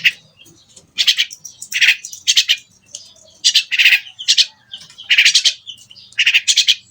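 Loud, harsh bird squawks come in repeated bursts, close by, with short pauses between the clusters of calls.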